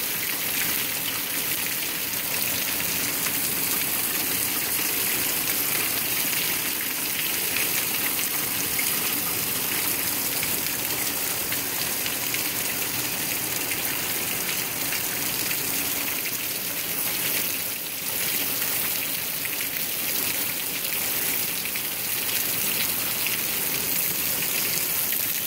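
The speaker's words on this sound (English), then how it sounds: "Oh my God, it's raining a lot." Heavy rain in Georgia pours in a dense, continuous rushing hiss at steady loudness for the whole stretch, with water gushing and no voices heard.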